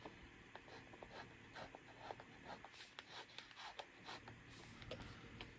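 A pen writing with ink on paper, close and quiet scratchy strokes in short irregular bursts, with no talk.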